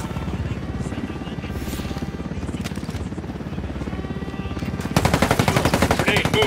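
Rapid machine-gun fire rattles over the steady thumping chop of a helicopter in the video game Ghost Recon, loud and dense throughout, with the gunfire growing heavier and closer near the end.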